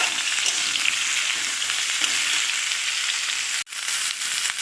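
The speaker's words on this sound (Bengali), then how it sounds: "তেলটা গরম হয়ে গেছে, এবার দিয়ে দেব কেটে রাখা আলু আর ঝিঙে। দেখো হালকা করে ভেজে নেব" Cut potatoes and ridge gourd fry in hot oil with a loud, steady close-up sizzle that holds nearly unbroken, dipping briefly once before resuming.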